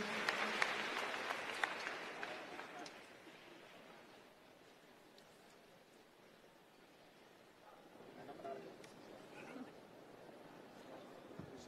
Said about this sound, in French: Je voudrais qu'on applaudisse encore les armées